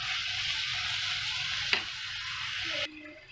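Chicken frying in a kadai pan: a steady close sizzle with a single stir clack, then the hiss drops off sharply near the end.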